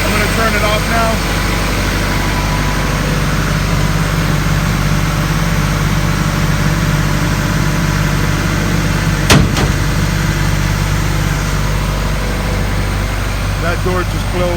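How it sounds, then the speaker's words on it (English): A door closes with a single sharp knock near a running 1996 Ingersoll-Rand air compressor, the brief thud cutting through the compressor's steady, loud motor drone. "That door just closed. That's what you heard."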